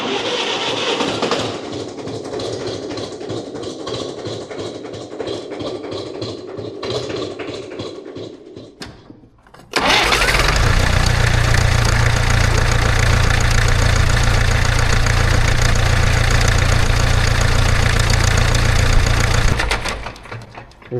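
A B275 tractor diesel engine cranking briefly, then starting and settling into a loud, steady knocking run for about ten seconds before cutting off.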